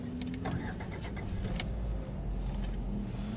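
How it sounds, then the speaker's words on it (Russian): A Lada Vesta engine running on old, worn spark plugs just after starting, giving a loud, steady low rumble close by that continues without a break. "Пуск двигателя на старые свечи"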